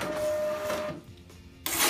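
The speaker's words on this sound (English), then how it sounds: "The printer prints the tag and I can apply that to the appliance." A Metrel 3309 appliance tester's label printer whirs briefly as it prints a tag, a short mechanical buzz that stops and restarts.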